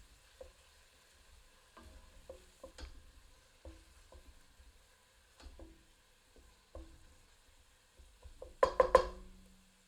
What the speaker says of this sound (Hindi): इसे प्याज में मिलाकर 2 मिनट मध्यम आंच पर भून लेते हैं।